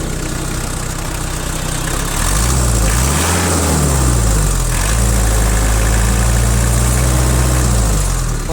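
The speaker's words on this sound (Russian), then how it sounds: "Сейчас покажу, как реагирует трактор на газ." A Kubota Saturn X24 mini tractor engine idles, then revs up and back down in a couple of swells before settling into a steady loud chug.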